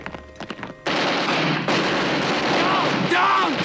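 Battle gunfire and explosions from the war film A Bridge Too Far, opening with sharp scattered shots, then a sustained loud roar of heavy fire and blasts with faint shouting underneath.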